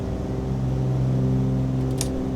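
A Cessna 414 flies on its one working engine after the left engine fails, giving a loud, steady droning hum that fills the cabin with a brief rushing burst near the end.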